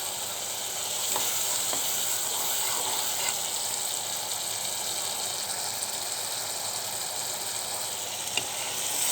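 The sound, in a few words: spice masala being sautéed in a pan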